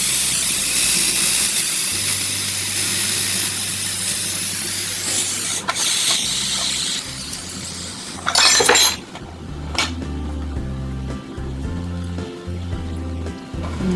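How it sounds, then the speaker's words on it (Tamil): Bitter gourd sambar boils in a covered pot with a steady steamy hiss, broken by a few sharp clinks and a short louder rush partway through. "நல்லா கொதி வருது"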